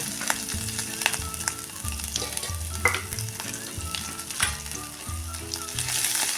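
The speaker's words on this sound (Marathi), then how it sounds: "आता टाकूया हे आलं लसूण" Ginger and garlic fry with a steady close sizzle in a pan with cumin potatoes, crackling continuously with occasional stirring scrapes and no talking.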